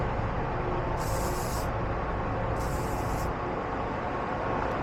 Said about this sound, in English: Just a quick